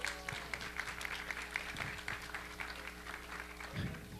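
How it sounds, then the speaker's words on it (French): Applause from an audience welcoming a conference speaker, a steady patter of many hands heard at moderate level from a distance, with faint low hum running underneath and a brief murmur near the end. "Alexis, on l'applaudit, mesdames et messieurs"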